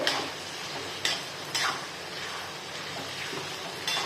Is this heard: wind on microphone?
no